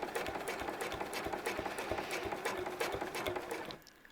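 A sewing machine runs continuously while free motion stitching clamshell quilting, a fast, even mechanical chatter close by for several seconds before abruptly stopping.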